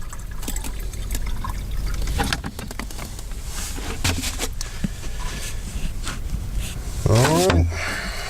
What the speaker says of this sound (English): I'll use this empty jug to pour our developer into